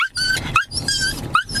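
A Pomeranian whimpers and cries in three quick, close, high-pitched whines, sounding eager and excited.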